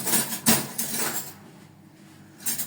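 Two spoons clink and scrape against a metal pot while macaroni with béchamel sauce is stirred, a few sharp close knocks early, then quieter, sparser scraping and a final clatter.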